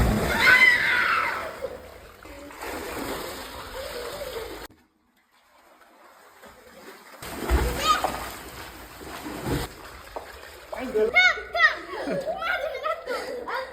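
Children splashing while bathing in a farm well, bursts of sloshing water and splatter with laughter and chatter, a brief quiet gap, then more splashing and lively voices echoing around the well.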